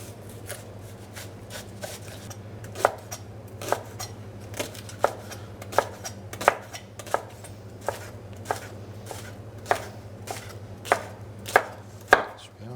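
A knife chops a halved leek on a cutting board in a kitchen, crisp knocks that start sparse and speed into a fairly steady rhythm over a low constant hum.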